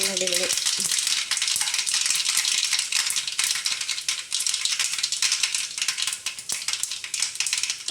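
Food fries in hot coconut oil while a papaya moru curry is being made, giving a dense, loud crackle and rattling sizzle that carries on without a break.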